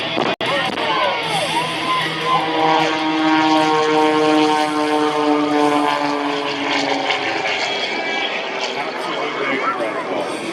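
Blue Angels jets roar past at the Arctic Thunder airshow, a loud sustained engine rush that swells and holds across the clip while an announcer talks over it.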